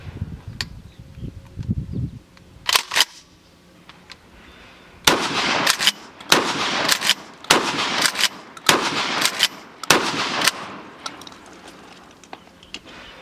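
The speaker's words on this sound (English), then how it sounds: "And we're going to shoot some birdshot first. It's really mild to shoot." A Winchester pump-action 12 gauge trench gun fires birdshot, with about a dozen sharp, loud shots. A few come in a pair early on, then a rapid run of evenly spaced blasts follows, each leaving a short ring.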